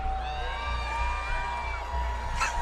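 Arena crowd at the Dickies Arena cheering and whooping in a steady, sustained roar with whistles and shouts, moderately loud throughout.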